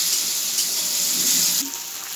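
Water poured into a pan of frying garlic, onion and chilli paste for paneer do pyaza, giving a steady hissing, running-water wash that holds near and loud for two seconds before easing slightly.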